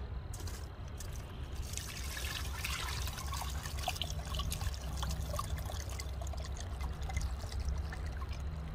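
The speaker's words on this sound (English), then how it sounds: "Then you want to pour just the water in there." Muddy water from dirt pours through a small strainer in a steady, close trickle that runs continuously with no talk over it.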